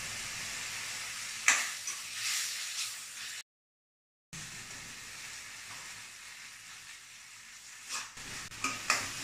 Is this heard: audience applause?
no